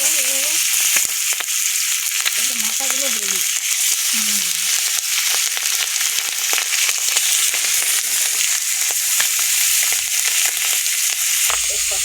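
Fish sizzle loudly in hot oil in a wok, a dense continuous crackling and spitting that runs steadily throughout, with a faint voice in the background early on and a few stirring clatters.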